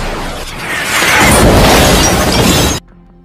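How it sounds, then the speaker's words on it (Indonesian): A missile explosion from the action film Gemini Man, striking near a car: a loud roaring blast with crashing debris swells over about two seconds, then cuts off abruptly into quiet. "sebuah pasukan tiba-tiba menembakkan misil ke arah mereka"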